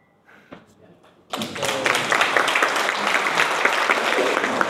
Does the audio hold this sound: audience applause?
yes